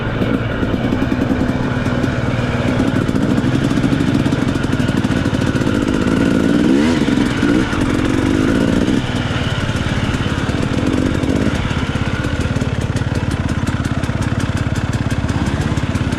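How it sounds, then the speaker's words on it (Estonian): A motorcycle engine runs steadily up close as a rider tries the bike, a loud, continuous mechanical drone that stays constant for the whole stretch with no speech. "Urmo saab proovida minu tsiklit nüüd."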